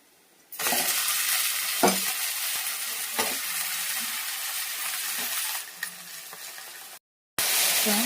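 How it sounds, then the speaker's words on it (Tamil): Chicken pieces hit a pan of browned onions and fry with a steady loud sizzle, with occasional stirring scrapes and clinks across the spoon and pan and a brief cut to silence near the end. "இப்போ சிக்கனை சேர்த்துக்கலாம்."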